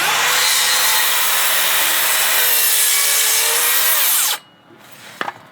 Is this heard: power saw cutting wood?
yes